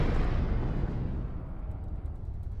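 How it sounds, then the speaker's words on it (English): A Falcon rocket landing brings a loud, low rumbling blast that starts strong and slowly fades away over about two and a half seconds. The separate thuds of the booms cannot be made out. "I'd not noticed the triple sonic booms before"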